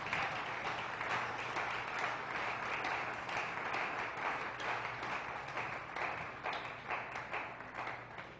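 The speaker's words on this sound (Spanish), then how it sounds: "Démosle un aplauso al Espíritu Santo de Dios." Congregation applauding in a church service, steady sustained clapping from a crowd that carries on throughout and starts to taper toward the end.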